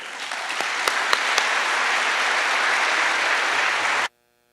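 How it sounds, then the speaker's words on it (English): Audience applause greets a speaker at a lecture, a dense, steady clapping that holds for about four seconds with a few sharper claps standing out, then cuts off abruptly. "Please join me in welcoming Professor Kagan."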